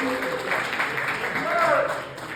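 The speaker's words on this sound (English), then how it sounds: "give yourselves a good round of applause for coming out here and supporting Monkey Comedy" Audience applause fills a comedy show venue, a steady wash of clapping that swells slightly near the end while a host keeps talking over it.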